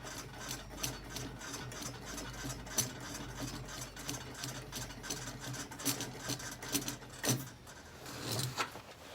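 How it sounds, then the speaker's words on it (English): A pressurised liquid-fuel camping stove is pumped by hand, giving a run of quick, rhythmic rasping strokes up close that keep going steadily with slight irregular pauses. "And we're going to give it a few pumps."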